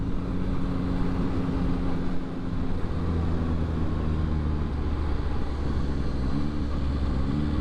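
A 2022 Yamaha XSR900 motorcycle pulls hard in first gear down an empty residential street, its engine holding a loud, steady drone close by that shifts pitch slightly as it rides on.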